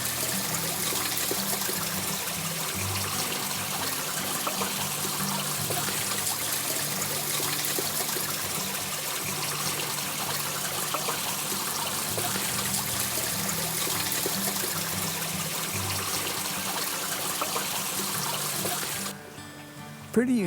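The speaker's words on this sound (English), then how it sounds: "Have a little waterfall like that coming down. Hear that noise all night long." A small waterfall trickling and splashing over rocks at Pomona Natural Bridge, a steady close babble of running water holding throughout before it drops away near the end.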